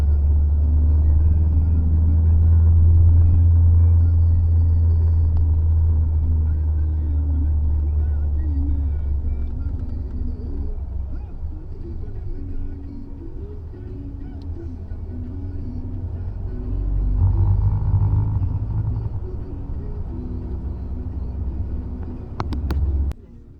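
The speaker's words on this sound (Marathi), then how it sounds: "गाडी क्रूज करत होती. आणि पॉवर मोड मध्ये आम्ही चाललेलो." Force Gurkha 5-door BS 6.2 SUV cruising in power mode along a smooth road, a steady low engine and road rumble from inside the cabin that eases slightly midway and ends with a short clatter.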